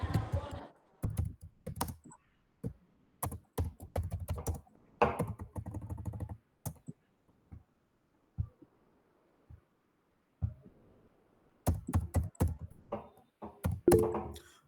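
Keys clatter on a computer keyboard in quick bursts of typing separated by pauses, close and crisp, with a quiet stretch in the middle before a final flurry.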